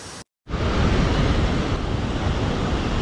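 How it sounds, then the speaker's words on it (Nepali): Rupse waterfall in Mustang, Nepal roars as a dense, steady rush of falling water, loud and close, after a brief silent cut at the start, with wind buffeting mixed in. "यो रूपसे झरना देखिरहेछ नि रूपसे झरना"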